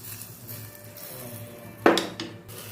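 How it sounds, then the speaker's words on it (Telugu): Ghee tempering with cumin, ajwain and turmeric hits pumpkin soup in a sharp sizzling burst, followed by softer fizzing and a light clink of utensils in a quiet kitchen. "ఇందులో తాలింపు వేయాలి."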